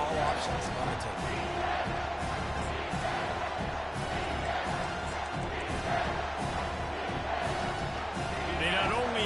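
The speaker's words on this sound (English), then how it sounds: "the noise from this crowd on 3rd and 4" Dense stadium crowd roaring steadily throughout during a third-and-four football play at a tournament game, a continuous wall of voices and cheering with no breaks.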